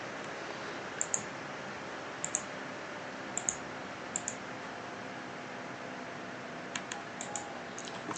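A computer mouse clicks while a floor plan is drawn in Revit 2024, giving light double clicks in short pairs at uneven intervals over a steady faint hiss, with no talking.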